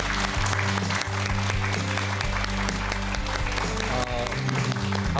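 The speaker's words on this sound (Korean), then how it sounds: "여러분 큰 박수로 맞아주시기 바랍니다." A studio audience on a Korean morning talk show applauds warmly to welcome a guest, with steady, dense clapping from a crowd throughout, loud and close.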